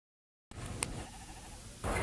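A sheep bleating, one soft wavering call heard alone at moderate distance over a quiet background, ending abruptly as another sound cuts in.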